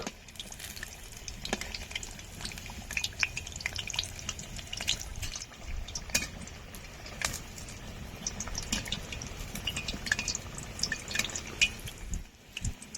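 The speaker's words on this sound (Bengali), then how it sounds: "রোলগুলো ভাজা হয়ে গেছে এখন তুলে নেব" Pumpkin leaf rolls frying in hot oil give a steady, crackling sizzle with scattered sharp pops and bubbling throughout, close and moderately loud, with no talking.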